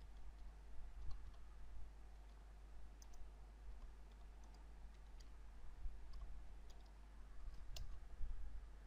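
Faint, sparse clicks of keys on a computer keyboard as a command is typed, soft individual taps scattered over a quiet background hiss.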